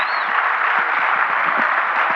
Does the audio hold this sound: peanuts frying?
no